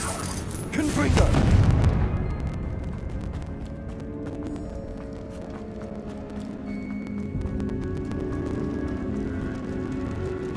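A booming fire-spell blast from Confringo in Hogwarts Legacy erupts loud and close near the start, then decays into crackling, ringing debris and tonal magical shimmer as the scene settles.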